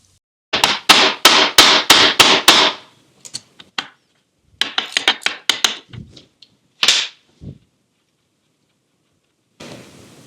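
A hammer strikes a 5/32 Allen wrench to free a factory-staked screw on a Scout front axle locking hub, loud sharp metallic taps in quick bursts of five to seven blows separated by pauses.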